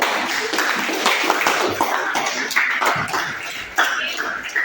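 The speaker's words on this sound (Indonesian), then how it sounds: "Tepuk tangan dulu untuk kelompok 2." Classmates in a school lesson clap for group 2, a near, uneven burst of hand claps with distinct sharp slaps over several seconds, voices talking among them.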